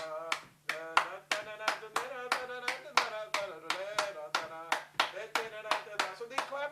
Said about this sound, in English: So they clap this kind of like 3-3-2 pattern